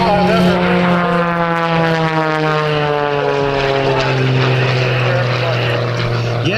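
A propeller-driven aerobatic airplane flies at the 2017 Blue Angels Homecoming Air Show, its loud, steady engine drone sliding in pitch as it passes, with the sound level holding high throughout.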